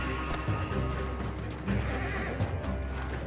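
Horses neigh and whinny in the Red Dead Redemption 2 video game, with hoof clip-clop and a stagecoach nearby, several loud whinnies rising over busy game ambience and rumble.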